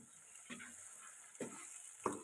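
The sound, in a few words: stirring biryani masala gently with a spoon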